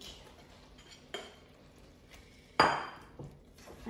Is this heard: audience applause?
no